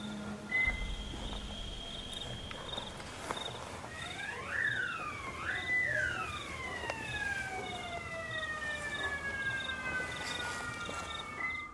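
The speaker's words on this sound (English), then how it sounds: "But then a siren goes off as well." A distant siren wails through several rising and falling sweeps over a quiet outdoor background, fading in and out across the clip.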